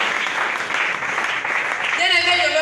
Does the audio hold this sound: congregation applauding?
yes